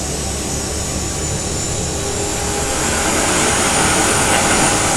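Simulated A320 with CFM engines, exhaust roar spooling up: a dense, loud broadband rush that builds gradually in intensity with a faint rising whine, steady and without speech.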